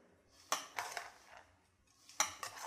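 Pistachio burger patty mixture folded together in a bowl, soft quiet scraping and a few sharp clinks of a utensil against the bowl, in two bursts with a pause between.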